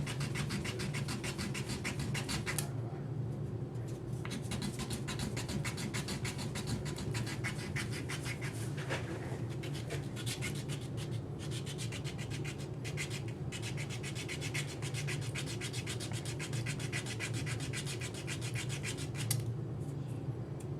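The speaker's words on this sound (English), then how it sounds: "And we sand it down until that hump is gone." Steady, continuous sanding of a UV resin ink pen, a close abrasive rubbing that runs without pause the whole way through, with brief dips in the scratchy texture but no speech.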